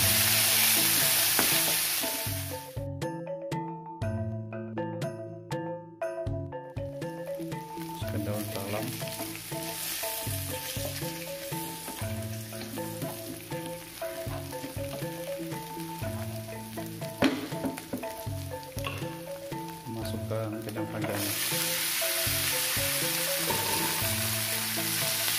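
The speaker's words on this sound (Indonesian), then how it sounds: "Lalu saya tumis bumbu halus untuk kacang panjangnya, untuk tumis kacang panjang telurnya." Ground spice paste stir-frying in a pan for a long bean and egg dish, a steady loud sizzle running the whole time while spoken words play over it, with a short drop at the start.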